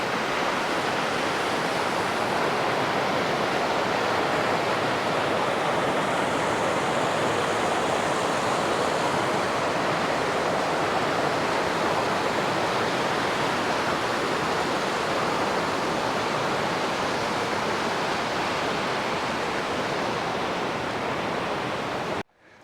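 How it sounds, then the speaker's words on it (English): Rushing mountain creek at the outflow of Emerald Lake along the Pine River trail near Durango, a constant broadband roar of flowing water, close and loud with no voices, cutting off abruptly at the end. "Coming up to Lake Creek here. This is the outflow from Emerald Lake."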